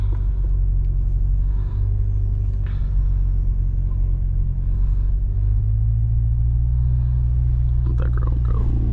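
C8 Corvette engine droning low and heavy from inside the cabin during a short acceleration pull, a steady loud rumble that rises in pitch midway, with road noise throughout.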